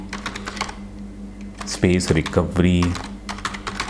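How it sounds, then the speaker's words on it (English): Keys clatter in quick bursts as a command is typed on a computer keyboard during an Android recovery flash on a Redmi Note 12 4G, close and fairly loud, with someone speaking over much of the typing. "For that, type the command fastboot flash space recovery"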